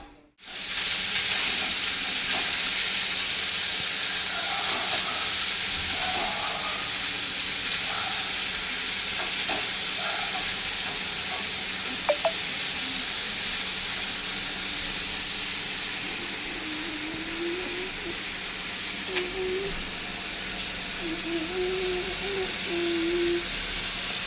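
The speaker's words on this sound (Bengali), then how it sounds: "এবার ভাজাটা করব।" Sliced bitter gourd and potatoes fry in a pan with a loud, continuous hissing sizzle, occasional faint stirring taps and light background noise throughout.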